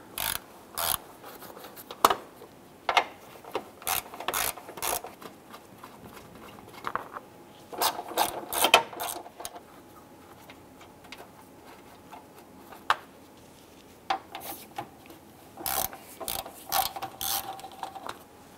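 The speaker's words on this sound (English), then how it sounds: "Use a 10 millimeter socket to go ahead and remove these 4 bolts up top here." A 10 mm socket ratchet loosens the headlight bezel bolts on a 1995–2001 Ford Explorer, giving short bursts of rapid clicking separated by pauses, close and crisp.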